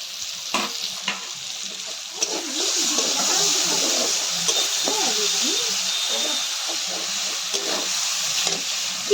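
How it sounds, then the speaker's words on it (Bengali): Water is splashed and stirred by hand nearby, sloshing irregularly under a steady hiss, with a murmuring voice behind it. "সুন্দর জল ঘাটছে বসে বসে কি সুন্দর জল ঘাটছে"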